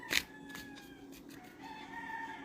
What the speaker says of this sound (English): A lot of roosters out here, for sure.